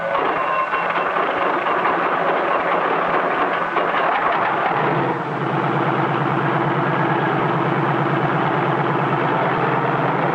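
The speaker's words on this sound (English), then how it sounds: "A self-starter starts the engine, and after a careful warm-up, we're ready to take to the air." A loud, steady helicopter engine rumbles and whirs continuously after a self-starter, settling into a smoother, more even drone partway through as it warms up.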